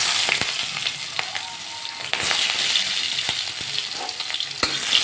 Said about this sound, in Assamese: অলপ ভাজি ল'ম